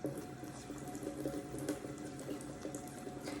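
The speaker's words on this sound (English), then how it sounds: "Step 1 to starting an IV is making sure to wash and sanitize your hands." Running water pours steadily from a tap over hands being washed at a sink, a continuous moderate splashing hiss with no talking.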